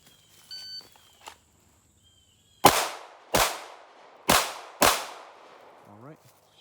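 Four sharp pistol shots fired in two quick pairs during a close-quarters pistol draw drill, each crack loud and near with a short decaying tail, preceded by faint handling clicks and followed by a brief voice.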